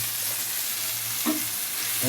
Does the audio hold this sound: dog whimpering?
no